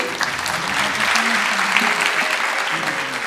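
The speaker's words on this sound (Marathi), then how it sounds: "पुन्हा एकदा जोरदार टाळ्यांचा गजर व्हायला काही हरकत नाही." An audience at a Marathi musical theatre event applauds with steady, dense clapping that holds even and fairly close throughout the short stretch.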